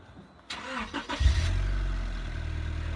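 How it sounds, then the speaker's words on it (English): An old budget Rover car engine cranks briefly, catches, and settles into a steady, low, close idle. A few soft sounds come just before it fires. "Joseph's going to start it up anyway"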